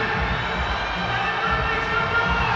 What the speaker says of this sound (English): The crowd are yelling at her.